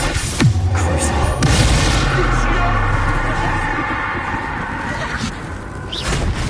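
Spell explosions and blasts from Bombarda and Confringo in the Hogwarts Legacy video game, with a sharp boom near the start and a steady rumble of combat noise continuing throughout.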